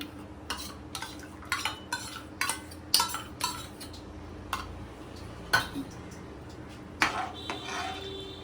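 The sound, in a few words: stirring yogurt into biryani mixture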